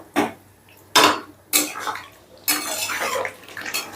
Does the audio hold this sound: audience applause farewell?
no